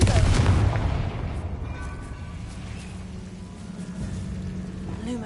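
Confringo explosive spell in Hogwarts Legacy, a single loud boom at the start that rumbles and fades over several seconds into a low lingering roar.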